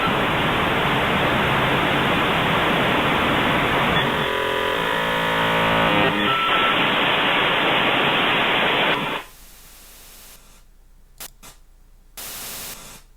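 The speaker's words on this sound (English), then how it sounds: "That's the sound that analog modems would make when you would make that connection" Analog modem making a dial-up connection handshake, a loud, harsh burst of static-like hissing and shifting tones that stops abruptly, followed by faint bits of noise.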